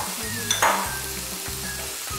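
Chopped tomatoes and capsicum sizzle loudly in a pan for pav bhaji, with a steady frying hiss broken by a brief burst as they hit the oil and a few soft stirring scrapes.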